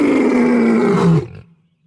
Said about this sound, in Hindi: पर रियल जिंदगी में शेर की दहाड़ कुछ इस तरह से सुनाई देती है।